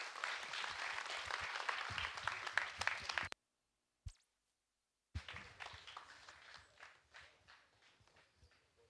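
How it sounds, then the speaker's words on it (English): An audience applauds at a quiz competition event in a steady, dense burst that cuts off abruptly, then resumes more softly and tapers away. "can we please have a huge round of applause for them?"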